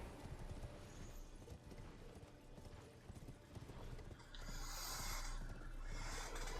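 Horse hooves clip-clop in Elden Ring, a steady galloping rhythm with snorting breaths, fairly close and loud, with a brighter rush of game effects near the end and no talk over it.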